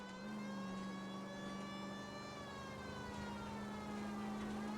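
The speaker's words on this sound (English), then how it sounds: "Do y'all not hear the sirens?" Police sirens in the L.A. Noire video game wail steadily at moderate distance, a sustained tonal howl with slowly drifting pitch over a soft background hum.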